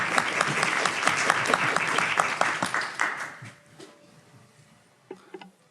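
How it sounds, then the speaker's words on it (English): A medical talk audience applauds, dense clapping from many hands that gradually thins and fades, with a few last claps near the end. "one more big round of applause"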